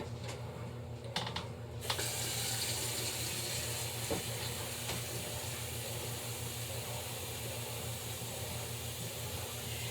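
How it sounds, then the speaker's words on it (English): Steady stream of tap water pouring and splashing into a container while making homemade laundry detergent, continuous and close, with a few light clicks and taps near the start. "now we finish adding the water."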